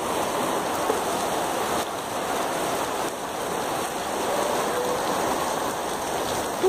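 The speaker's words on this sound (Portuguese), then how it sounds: "Olha essa chuva." Heavy, dense rain pours down steadily, a loud continuous hiss of drops striking surfaces for several seconds with no voices.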